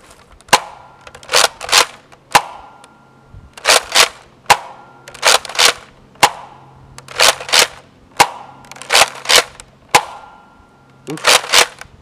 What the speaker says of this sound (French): Donc là on va tirer dans l'allée là